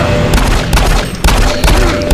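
Gunfire in a war video game set on Mars, loud bursts of heavy shots and booms repeating at roughly half-second intervals amid a dense rumbling battle din.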